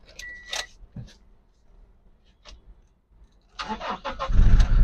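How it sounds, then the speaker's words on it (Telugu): A Toyota Innova Crysta 2.8 G automatic starts on a single crank: a few faint clicks, then a short burst of starter cranking, and the engine catches into a loud, close, steady rumble. "సింగిల్ సెల్ఫ్ తోటి వెహికల్ అయితే స్టార్ట్ అయింది"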